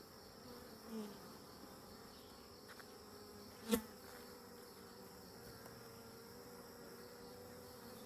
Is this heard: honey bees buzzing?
yes